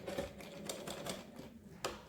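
A sewing machine stitches a narrow fabric strip for a small summer dress. Quick, soft mechanical clatter with a few sharper ticks lasts about two seconds, faint and close, with no voice.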